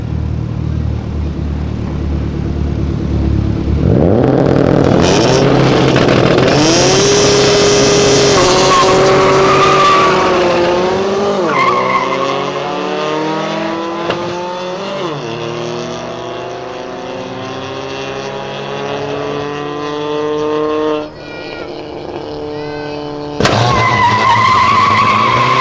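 A Fiat Palio Turbo races a 1.6 VW Fox, with loud engines revving and climbing through gears and tires squealing and skidding, the roar rising and falling over about twenty-five seconds with a sharp break near the end.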